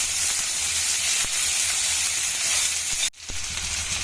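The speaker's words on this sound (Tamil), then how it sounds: "வெங்காயம் பச்சை மிளகாய் சேர்த்துக்கலாம் போட்டு நல்லா வதக்கி விட்டுடலாம்" Onion and green chillies sauté in a hot pan with a steady, close sizzle and hiss, broken by a sudden brief drop near the end before the frying resumes.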